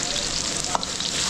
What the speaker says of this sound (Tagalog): Nagigisa ko na rin itong bawang sibuyas, so may rin yung ating mantika.